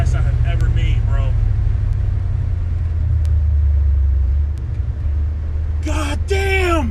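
A Chevy OBS truck with a Vortec engine rumbles loud and close after a drag strip pass, its deep low drone held steady as someone talks excitedly over it.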